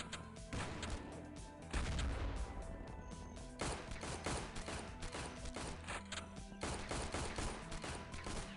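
Rockets and heavy weapons firing in the video game XPiratez, a loud continuous barrage of blasts and explosive impacts layered over one another without pause.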